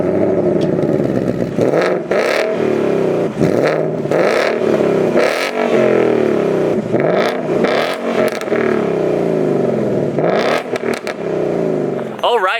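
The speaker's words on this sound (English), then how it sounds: "No matter what driving mode you're in, that exhaust definitely sounds awesome." Ford Mustang Bullitt V8 with quad-tip dual active valve performance exhaust, heard up close in repeated loud revs that rise and fall in a steady rhythm, with a voice talking over parts of it.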